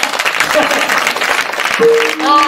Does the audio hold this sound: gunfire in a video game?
no